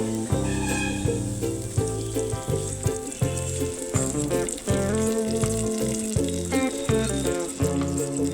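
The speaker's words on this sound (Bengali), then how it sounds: "আমার তরকাটা হয়ে গেছে, এখন আমি দিয়ে দিচ্ছি" Hot tempering with chopped onion is poured into masoor dal, producing a loud, close, bubbling sizzle that pulses for several seconds under a tonal background.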